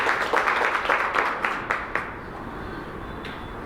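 An audience claps for a doctor at a gathering in a small town, a burst of applause that fades after about two seconds into quieter room noise.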